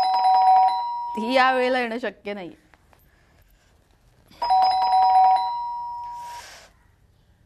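A two-tone household doorbell rings twice, each chime loud and close in a quiet home, with someone speaking briefly between the rings.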